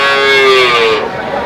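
A native heifer at the Melapalayam cattle market gives one loud, close moo that slides downward in pitch and fades within a second and a half.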